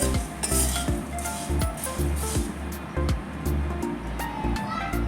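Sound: puffed rice roasting in pan

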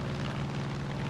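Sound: airplane flying in a video game

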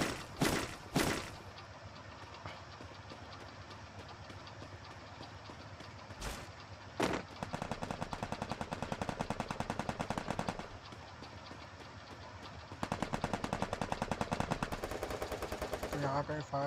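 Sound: gunfire from Free Fire video game

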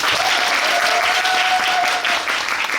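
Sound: audience applause at a musical curtain call

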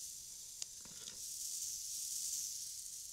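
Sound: waffle batter cooking in waffle iron

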